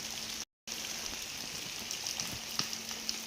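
Continuous rain hisses steadily outdoors among plants, close and even, with a few sharper drop ticks near the end and a brief moment of total silence early on.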